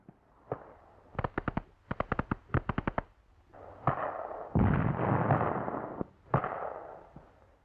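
Wartime mortar fire in combat: sharp booming detonations in quick clusters, then heavier rumbling blasts and a final loud crack, fairly close and without talk.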